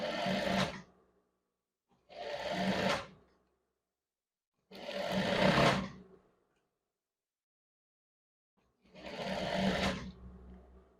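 A sewing machine runs in four separate bursts of stitching, each about a second long with pauses between, while sewing the shoulder seam of a women's scrub top. The bursts are close and clear, with no talk over them.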